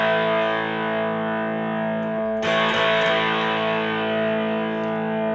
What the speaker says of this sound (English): I've just got some crunch through the amp, using humbuckers on this guitar